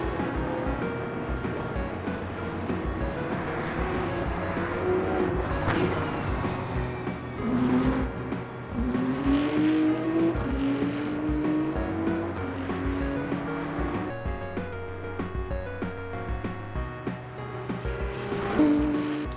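Video game race cars, including hypercars, roar and whine continuously during an endurance race in Le Mans Ultimate, engine pitch rising and shifting as they drive, with a steady droning background.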